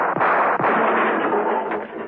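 Gunshots in a radio drama: two sharp reports come early, the second soon after the first, over a dense, band-limited rumble that sounds like an old broadcast recording, with no speech.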